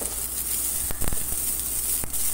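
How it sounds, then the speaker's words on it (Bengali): Chopped garlic and onion sizzle steadily in hot oil for gravy chili noodles, with a few sharp scrapes of stirring near the middle and no voices. "আবারও আরেকটু তেল দিয়ে দিলাম, দিচ্ছি রসুন কুচি। এবার রসুনটা একটু নাড়াচাড়া করে এর মধ্যে দিয়ে দেব পেঁয়াজ কুচি।"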